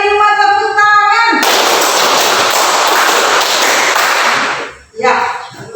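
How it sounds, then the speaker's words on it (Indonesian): Pupils in a classroom clap as a group, a loud dense burst lasting over three seconds, framed by a teacher's speech before and after. "dua kali lima tepuk tangan"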